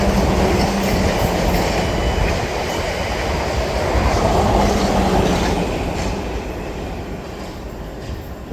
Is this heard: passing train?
yes